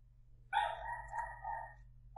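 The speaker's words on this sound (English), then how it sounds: "You just have to put up with my dog barking." Dog barking indoors, one drawn-out, wavering bark or howl that lasts more than a second, close and fairly loud over a low electrical hum.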